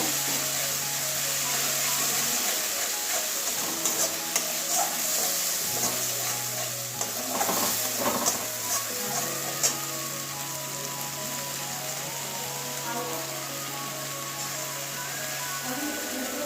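Spices frying in plain oil with no water for a stuffed flat bean fry, crackling in a continuous light sizzle like rain on a surface while a voice talks over it.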